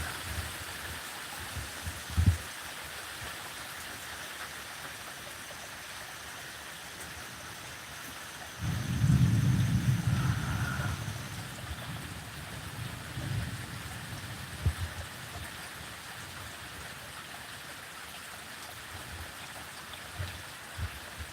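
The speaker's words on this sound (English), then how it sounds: "Here comes the rain." Heard from a porch, steady rain patters down under a thunderstorm, with a low rolling thunder rumble swelling in the middle and a few nearby thumps, and no one talking.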